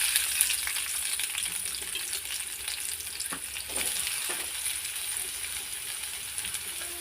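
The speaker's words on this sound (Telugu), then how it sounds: "కడాయిలో కొద్దిగంత ఆయిల్ పోసుకున్నాను. కట్ చేసి పెట్టుకున్న ఉల్లిపాయలను ఫ్రై చేయాలి." Chopped onions fry in a little oil in a kadai for an egg gravy curry, giving a steady close hiss and sizzle with occasional crackles and a few soft stirring scrapes, no talking.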